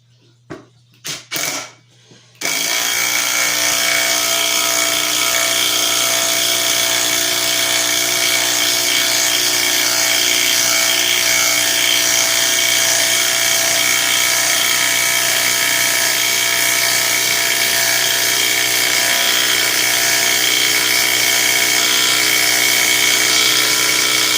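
A DeWalt 12V Xtreme impact wrench runs continuously and loud at close range, a dense high-pitched whirring with rapid hammering. A few brief knocks come before it starts.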